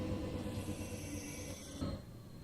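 A train in Train Sim World 3 rumbles with a low steady drone and hiss, fairly quiet, and a faint bump near the end, with no voices.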